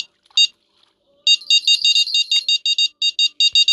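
A video game fishing rod bite alarm in Fishing Planet: a run of rapid high-pitched electronic beeps, quick bursts repeating steadily for a few seconds, loud and close with no talking.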